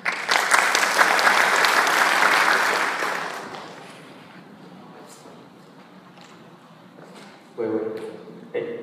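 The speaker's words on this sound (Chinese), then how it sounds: "那请大家掌声欢迎。" An indoor audience at a PHP developers' conference applauds loudly and steadily to welcome the next speaker, then the clapping fades to scattered claps and room noise before a voice starts speaking near the end.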